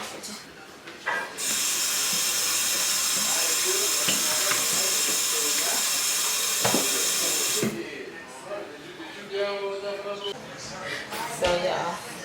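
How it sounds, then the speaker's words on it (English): Water from a kitchen sink tap runs in a steady loud hiss for several seconds while shrimp are rinsed, then cuts off, with a person talking before and after. "pull your shrimp out, drain it, rinse it."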